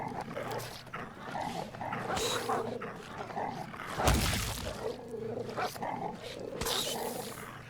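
Dogs in a fantasy video game battle barking, growling and yipping in quick overlapping bursts among fighting sounds and impacts, moderately loud and continuous.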